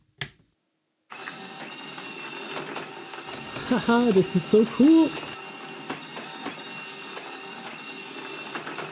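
A motorized cat toy mechanism whirs and clicks through a short burst of movement, fairly loud and close, while a person talks excitedly over it.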